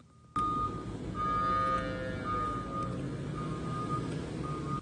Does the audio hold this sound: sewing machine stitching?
no